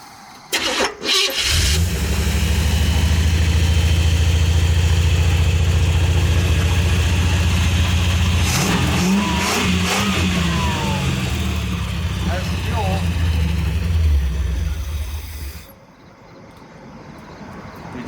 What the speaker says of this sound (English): We're gonna crank that idle off a little bit and see if that helps keep it running.